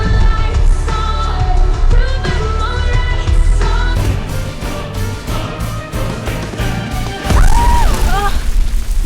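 Cartoon firecrackers burst in a loud, dense barrage of booms and crashes over a musical score, with a sharp cluster of bangs near the end.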